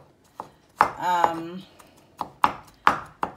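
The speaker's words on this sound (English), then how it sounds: "So I'm chopping up these olives." Knife chopping olives on a cutting board while preparing vegan butternut squash gnocchi, a handful of sharp, separate knocks at an uneven pace, close up, with a person talking between cuts.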